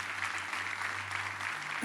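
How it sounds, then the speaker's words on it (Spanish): A congregation applauding during a church service, a steady wash of clapping over a low electrical hum, brief and even in level. "Aplauda al Señor, muy bien."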